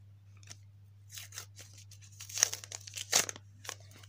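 Paper surprise packet torn open by hand, a run of quick crinkling rips and crackles in short bursts, the loudest tears coming near the end, close and otherwise quiet over a low hum.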